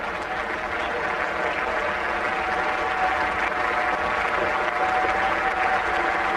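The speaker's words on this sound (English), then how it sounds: "Applause from the Australian dressing room as well." Applause from a cricket ground crowd and the Australian dressing room at a 1999 World Cup Super Six match between India and Australia, a steady continuous wash of distant clapping with no voices standing out.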